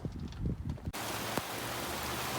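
Heavy rain pours down at an outdoor car wrecking yard, a loud, steady broadband hiss that starts abruptly and fills the rest of the clip after a moment of muffled handling noise.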